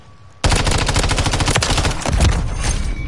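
Sustained rapid gunfire from a video game weapon bursts in suddenly and loud, a dense continuous stream of shots with no talking over it.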